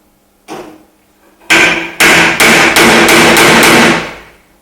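Loud metallic hammer blows ring out on a spotter dent-pulling tool during bodywork: one early strike, then a quick series of about seven evenly spaced clangs with a fading ring.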